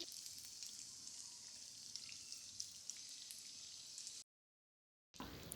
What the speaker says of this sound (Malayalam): ഓയിൽ ഒഴിച്ച് ചൂടായി വരുമ്പോൾ ഓരോ കുഴിയിലേക്ക് ഒരു സ്പൂണോ ഗ്ലാസോ വെച്ച് ഒഴിച്ചു കൊടുക്കാം.